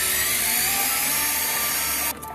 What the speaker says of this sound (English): Take the outlet out with this little handy dandy electric screwdriver.